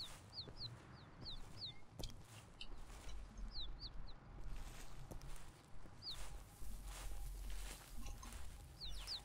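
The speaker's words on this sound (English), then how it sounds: "I'm wondering if these bird calls I'm hearing might be them" Repeated short chirping bird calls heard during a hunt in the Val-des-Bois woods, sounding at intervals over a low, steady outdoor background.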